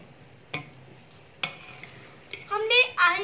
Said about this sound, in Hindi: अब हम इसके अंदर गुलाब जामुन डाल देंगे और मिक्स करेंगे